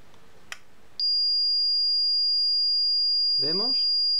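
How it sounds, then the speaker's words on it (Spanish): A 4-wire Paradox smoke detector sounds its alarm after a sensor test: a loud, steady, piercing electronic tone switches on abruptly after a faint click and holds continuously, with a voice speaking briefly near the end. "se ha encendido el piloto y se enciende la alarma"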